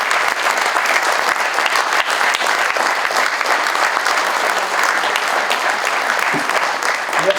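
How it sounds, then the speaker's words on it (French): Sustained applause from an audience at a 2017 New Year's address at the Peymeinade town hall, a loud, even wash of many hands clapping without pause for several seconds, with no talk over it. "Je voudrais aussi qu'on applaudisse et qu'on remercie, qu'on applaudisse les époux Lebeau, Aurélie, Nicolas"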